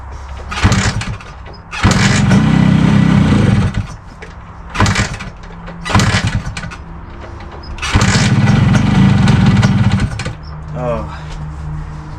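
A rare 42-year-old Suzuki motorcycle engine cranks loudly in several long bursts, each catching briefly and sputtering before stopping, with pauses between attempts, close up.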